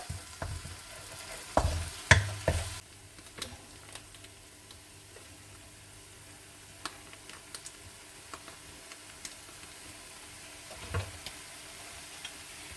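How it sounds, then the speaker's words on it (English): A sauce mixture of soya sauce, Worcestershire sauce and paprika for oxtail beef stew is stirred with a few sharp clinks and scrapes near the start, then quieter intermittent ticks and scraping over a soft background. "Let's mix it all together"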